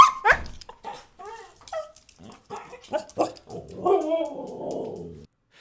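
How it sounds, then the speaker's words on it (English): A dog barks several times in quick bursts, then lets out a drawn-out, wavering howl, loud and close. "Bark, howl, and growl."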